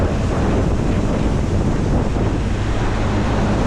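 Strong outdoor wind roars and buffets the microphone in a loud, continuous rush during seed cleaning, with no gaps and no voices.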